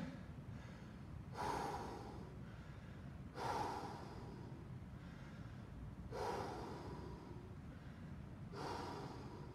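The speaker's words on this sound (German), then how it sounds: "Schön tief atmen." Deep, heavy breaths during a HIIT workout, about four slow audible inhale-exhale cycles spaced a couple of seconds apart, close to the microphone with no talking.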